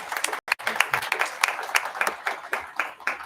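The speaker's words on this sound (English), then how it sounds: "Let's give her a round of applause as she comes up" Audience at a school board of education business meeting applauding, a steady patter of many hands at moderate distance, fairly quiet, with a voice speaking over it.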